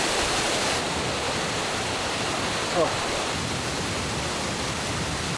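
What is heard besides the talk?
waterfall at Doi Inthanon, Thailand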